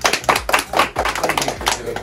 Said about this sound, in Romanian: Acum aplaudăm tare, să ne audă toată strada.